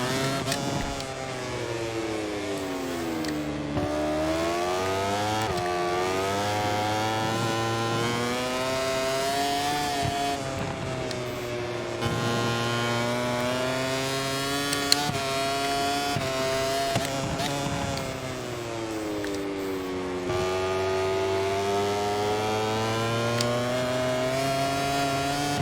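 A racing motorcycle engine in the MotoGP 24 game, a bike with a modest engine upgrade at a Jerez test, revs continuously for the whole stretch, its pitch climbing and falling through gear changes, loud and close with no talk.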